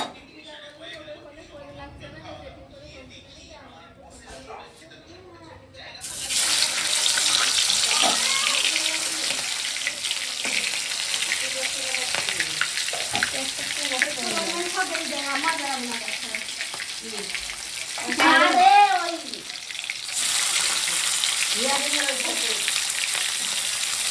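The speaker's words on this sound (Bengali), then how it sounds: "যে তেল গরম হয়ে গেছে, এবার মাছটা ভেজে নেব।" Chital fish frying in hot oil in a home kitchen, a loud steady sizzle that bursts in suddenly after a quiet start and continues with spitting crackles, while someone talks over it.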